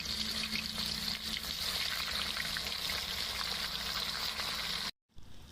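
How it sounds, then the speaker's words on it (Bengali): Cauliflower florets frying in hot oil for a vegetarian biryani, a dense continuous sizzle and crackle close by, steady until it cuts off abruptly near the end. "এবার কপিগুলোকে ভেজে নিচ্ছি।"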